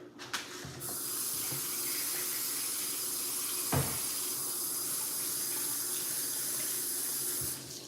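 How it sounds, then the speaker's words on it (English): Kitchen tap running steadily into a sink while hands are washed, a continuous close hiss of water with a brief splash or knock partway through and the flow cutting off near the end, no voices. "Let me go wash my hands."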